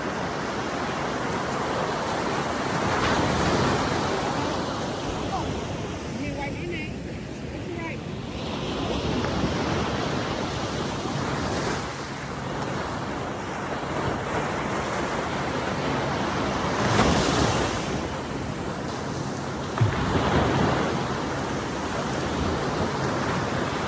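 Steady broadband wash of ocean surf breaking on a gray beach under gray skies, with wind buffeting the microphone and a few louder wave surges across a constant roar.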